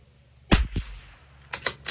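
CZ 457 LRP rifle firing RWS Special Match rimfire ammunition at a 50-yard range: a single sharp, fairly quiet crack, followed by a few fainter clicks and knocks.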